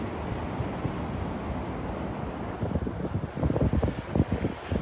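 Wind buffets the microphone on a beach at Delnor-Wiggins, a loud continuous low rumble that grows gustier and more uneven toward the end, with surf in the background.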